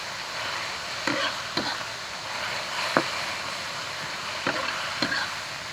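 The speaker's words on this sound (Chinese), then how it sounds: "加盐、酱油，一点点白糖，一起炒一下给味道" Vegetables stir-fried in a hot wok with salt, soy sauce and a little sugar for yu xiang pork: a steady loud sizzle with occasional sharp clinks of the spatula against the pan.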